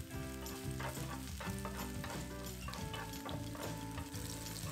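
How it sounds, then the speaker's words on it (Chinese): Spices sizzling and crackling in a hot wok over medium heat as they are stir-fried, a steady frying hiss with scraping stirs, faint and mixed under background music. "中火热好锅后，下我们的新香料下去爆香"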